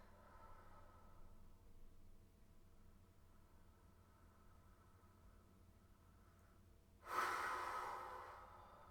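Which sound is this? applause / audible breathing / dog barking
audible breathing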